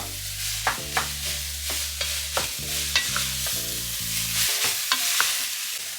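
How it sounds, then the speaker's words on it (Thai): Garlic and beef stir-fried in a pan for a Thai basil beef dish, giving steady sizzling with repeated scraping strokes of a utensil against the pan, close and alone, with a low hum under it. "ระหว่างที่คั่ว กระเทียมเข้ากับเนื้อนะครับ"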